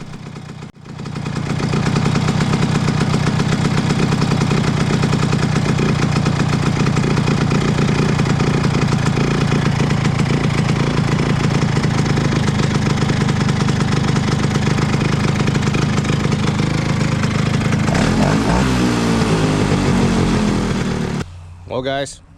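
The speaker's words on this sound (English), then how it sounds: "the idle was a little high every time I stopped, so here I am adjusting it a little bit" A Stella scooter engine idles loudly and steadily up close for about twenty seconds, with a fast, even putter and a slight rise and fall in speed as the idle is adjusted, ending with a sudden cutoff.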